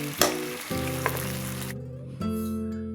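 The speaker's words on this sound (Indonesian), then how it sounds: "Dan ini akan kita masak hingga kuah mengental dan juga sedikit menyusut." Kung pao chicken sauce simmers and sizzles in a pan, a steady frying hiss with a few stirring clatters, close and moderately loud without talk.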